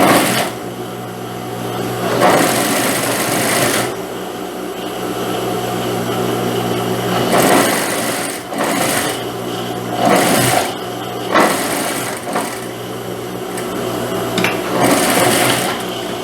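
A sewing machine runs continuously while stitching a folded fabric strip for a children's blouse, loud and close, with its motor whirring in uneven bursts as it speeds up and slows.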